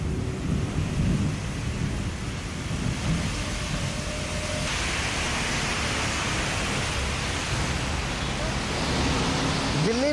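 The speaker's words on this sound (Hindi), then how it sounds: "जहां पर बादलों ने डेरा डाल रखा है और बारिश हो रही है" Heavy monsoon rain pours down over the Delhi region with a dense, unbroken roar and low rumbling like thunder, loud and continuous for the whole stretch.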